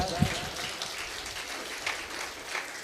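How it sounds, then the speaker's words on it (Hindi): A group of journalists claps together in a steady patter of applause, with a few voices mixed in. "पत्रकारों ताली बजाओ एक बार।"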